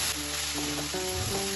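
Chopped banana flower (mocha) frying with shrimp in a pan, stirred lightly: a steady, close sizzle with a few soft scraping stirs running throughout.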